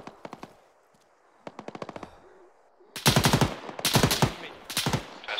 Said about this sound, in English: We're taking heavy fire from our eastern flank.